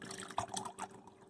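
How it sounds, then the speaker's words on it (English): Water poured from a cup into the back reservoir of a home coffee maker, a light splashing, trickling pour heard close and quiet for a moment with no talking. "And you just pour the water straight in there."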